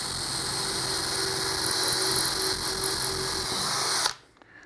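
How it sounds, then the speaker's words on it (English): A power drill whines steadily at high speed for about four seconds while drilling out a hole in a roll-out shelf front, then cuts off abruptly into near silence. "take my drill and drill out this hole."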